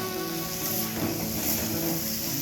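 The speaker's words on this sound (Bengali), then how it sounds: "এবার এর মধ্যে আলু আর পটলটা দিয়ে অল্প একটু নেড়ে নেব।" Potato and pointed gourd sizzling with spices in a pan, a steady close frying hiss running throughout without pause, with a faint background hum.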